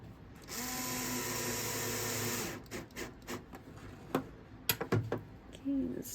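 Power drill driving a screw into a door hinge, a steady close whine for about two seconds, then short pulsed bursts as the screw tightens, with faint handling noise between.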